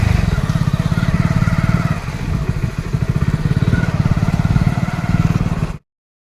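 A parked motorcycle idles steadily at a busy Sunday temple fair in Banaskantha, Gujarat, its close, loud, even engine putter running without a break for about six seconds before cutting off abruptly.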